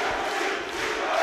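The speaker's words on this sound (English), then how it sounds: "Tremendous atmosphere in here as the crowd crank up the noise again" A loud, steady roar of an arena crowd at a forces boxing bout between Army Paras, cheering and shouting continuously without a break.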